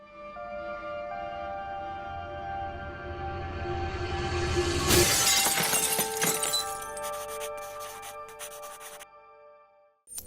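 Glass shatters in a loud burst midway through a recreated VFX scene from a music video. Ringing, tinkling shards and debris follow, preceded by a low rumbling build.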